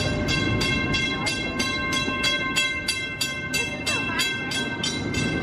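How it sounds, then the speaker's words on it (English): Walt Disney World Railroad train rolling past in Magic Kingdom's Tomorrowland area at Christmas, with a steady rhythmic clatter of wheels on track joints, a sustained tonal hum, and people talking nearby. "We got a people mover on the right, a train in the middle, and a monorail on the left."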